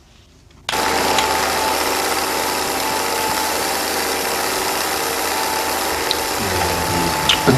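An old film projector starts up and runs with a steady, loud mechanical clatter, a continuous ratcheting whir of gears and sprockets that holds unbroken from start to finish.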